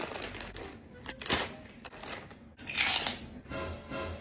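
Someone bites and chews a crunchy spicy fried squid snack close to the microphone, giving several sharp crackling crunches spaced irregularly, with voices talking nearby.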